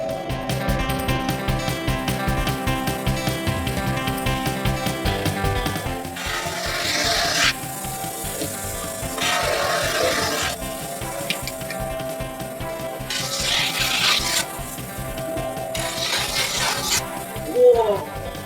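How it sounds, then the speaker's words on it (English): Snowboard edges being ground by a worker in a shop, a continuous close rasping, filing grind that runs in several long passes with brief pauses between them. "He's gonna take the snowboard and grind the edges."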